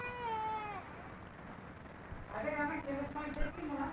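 A cat meows faintly a couple of times in a quiet indoor room, with people talking nearby.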